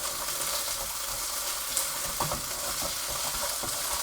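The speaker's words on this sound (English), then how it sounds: "You can hear these sizzling away nicely." Continuous loud sizzling of pork frying in a pan for a Thai stir fry, a dense crackling hiss with occasional small pops and stirring sounds, no voices.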